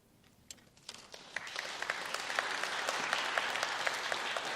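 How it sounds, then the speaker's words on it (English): Scattered claps quickly swell into steady applause from a crowd at a sponsor launch in the State Library of Victoria, growing louder and holding at a full, even patter. "Big round of applause, big round of applause."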